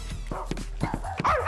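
An animated Poppy Playtime character mimics dog barking with a voice, giving a quick series of yipping, playful barks at close range.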